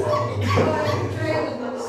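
Dogs bark and whimper in short, excited yelps close by, mixed with a busy background of voices and movement in a theatrical country-manor setting.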